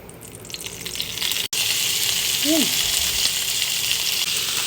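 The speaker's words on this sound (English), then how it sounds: "I like to make sure to cook the onions and carrot first" Onion and carrot sizzle loudly in hot oil, a steady close crackling hiss after a brief clatter, with a faint short voice in the middle.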